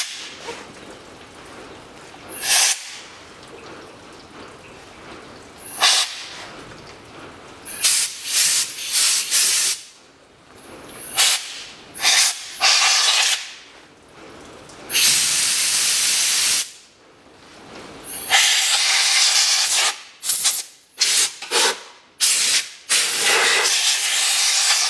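Compressed air blasts cleaning parts of a CFMOTO CF625 X6 EFI quad bike during a spark plug and oil service, sharp hissing bursts repeated irregularly, some short and some held for a couple of seconds, loud and close.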